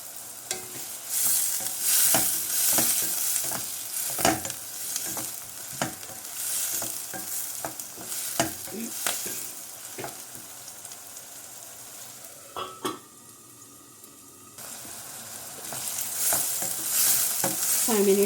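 Onions cooking in a covered pan with curry leaves and ginger-garlic paste for chicken keema, a soft steady sizzle broken by repeated scraping stirs, with a short clatter of the lid near the end.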